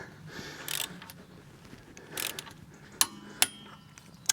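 A torque wrench clicks sharply several times while tightening the wheel nuts on a campervan, with a few softer ratcheting and mechanical movements before the distinct clicks.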